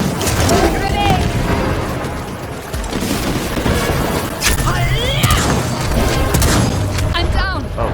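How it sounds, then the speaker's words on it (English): Grenade explosion and gunfire in the video game Second Extinction, a dense barrage of booms and rapid shots layered with creature screeches, loud and chaotic throughout while players shout over it. "Grenade!"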